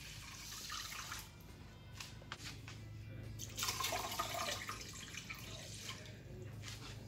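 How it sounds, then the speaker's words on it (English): Two mugs of water pour into a pot of rinsed white rice on a stovetop, a continuous close splashing and gurgling stream that swells midway and stays fairly soft throughout, with no talk. "So now we're going to add in 2 mug cups of water."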